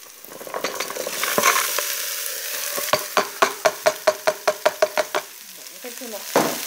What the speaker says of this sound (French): je fais revenir un peu le pâtisson